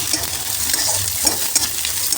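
Mixed winter vegetables for spring rolls sizzle and crackle in a hot pan while a utensil scrapes and stirs them, a few sharper clinks standing out.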